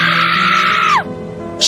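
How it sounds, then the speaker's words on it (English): A woman lets out a loud, raw, sustained shriek that breaks and drops off, then a second scream begins after a brief pause. "She was screaming at nothing. Raw, broken shrieks tore from the depths of her soul."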